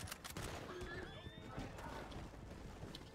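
Horses whinny and hooves clatter in a Red Dead Online game scene, a couple of faint rising neighs over gunfire-like pops and rumbling movement, with voices talking over it.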